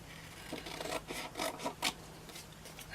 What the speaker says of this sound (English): I'm just going to cut it with my scissors